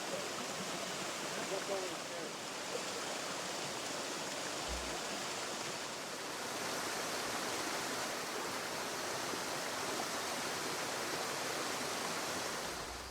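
A waterfall in a Sri Lankan forest pours in a steady, dense rush of white water, a constant broadband roar that holds even and unbroken from start to finish.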